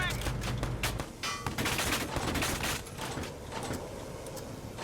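Rapid bursts of gunfire crackle through a Valkyria Chronicles 4 battle on PS4, dense volleys and machine-gun chatter overlapping with mechanical clanks, loud and close for the whole stretch.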